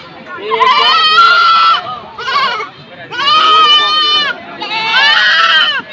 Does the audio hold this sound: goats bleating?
yes